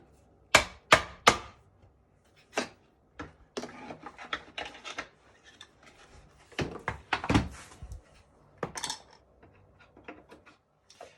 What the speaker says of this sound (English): Again, I'm going close to the nail heads with the chisels.